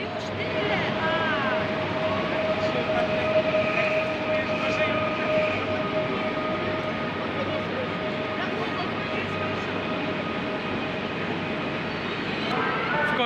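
Passenger train on line S1 in Katowice, a steady loud rumble with continuous wheel and motor tones and faint squeal, running throughout without pause.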